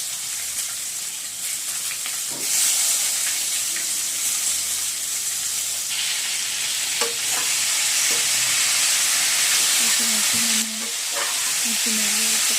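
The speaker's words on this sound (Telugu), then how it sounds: "వంకాయలను కూడా నేను ఫ్రై చేసుకుంటున్నానండి" Brinjals (eggplant) frying in oil in a pan, a steady loud sizzle filling the whole stretch, with occasional clinks and stirring scrapes close by.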